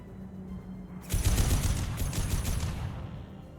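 Gunfire in Mass Effect 2 during a fight with Vorcha: dense, continuous rattling bursts that begin abruptly and keep going loud and close until the clip ends.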